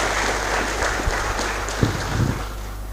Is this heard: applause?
yes